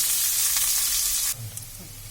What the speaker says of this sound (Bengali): এটাকে এবার একটু ভাজা করে নেব